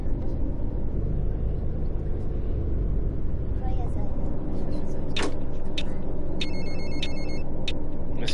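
A mobile phone rings repeatedly inside a coach in the Fernbus Simulator game, a bright electronic ringtone pulsing over the steady low rumble of the bus engine and road noise.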